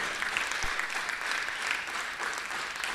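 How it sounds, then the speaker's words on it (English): Steady audience applause fills an auditorium at the inauguration of a blind cricket T20 World Cup conclave, a dense wash of many hands clapping at moderate level with no voices on top. "Can we give a big round of applause to the proud team of Samarthanam and CABI"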